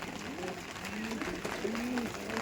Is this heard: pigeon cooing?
yes